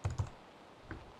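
A few quick keystrokes on a computer keyboard while entering a patient number, two close clicks then a single fainter tap, near and quiet.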